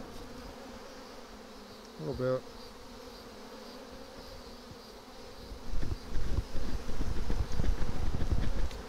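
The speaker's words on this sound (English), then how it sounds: "Oh man, there's a lot of bees." Honey bees swarm around a hive, giving a steady close buzzing drone that grows louder and more agitated toward the end, with a brief voice speaking over it.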